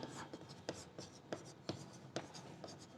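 Chalk or marker taps and scratches on a board during a Class 11 physics lecture on thermal properties of matter, a series of short, evenly spaced strokes close to the listener, with speech in the room.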